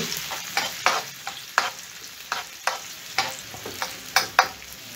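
Garlic and red chili paste sizzle in hot oil while being stirred for homemade chili garlic sauce, a steady fry broken by scraping stirs in an uneven rhythm, close and moderately loud.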